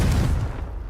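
A Confringo fire spell blasts in the video game Hogwarts Legacy, a loud, dense explosive boom with a burst of crackle that decays over about a second.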